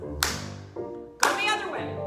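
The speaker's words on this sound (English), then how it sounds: "Okay, now let's do 2 claps." Young children in a pre-ballet class clap twice in a loose, uneven pair, then clap again a moment later. The claps ring out sharply in a room, with children's voices and an adult voice heard in the background.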